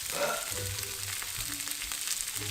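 Mini sweet peppers and cherry tomatoes fry in a pan for ostrich steak fajitas, giving a soft, steady sizzle with faint stirring; quiet and close, with no talking.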